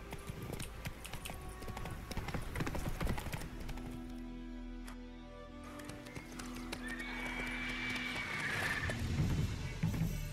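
In the video game The Witcher 3, the horse Roach walks with clip-clopping hooves and neighs, in a rhythmic, fairly close sequence over ambient game sounds, followed by whinnying and distant shouting.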